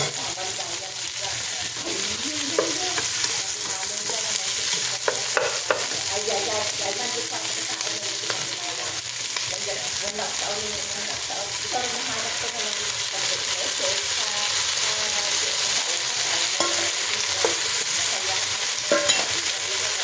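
Pork and fresh tomatoes sauté in a pan with a constant sizzle and frying crackle, accompanied by intermittent stirring and scraping close by throughout.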